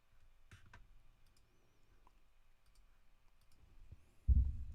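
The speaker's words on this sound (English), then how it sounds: "And double click." A computer mouse clicks in short, faint bursts, including a quick double click, against a quiet background during crypto trading, followed by a louder low thump near the end.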